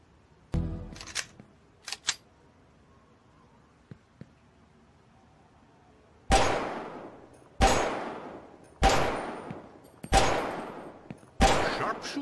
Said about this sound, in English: Try to hit the target 5 times with your pistol